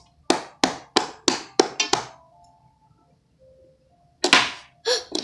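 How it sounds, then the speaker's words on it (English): Knocking on a toy door on a children's activity cube, a quick series of six crisp taps, a pause with soft faint tones, then two more knocks close by. "Let's knock on this door."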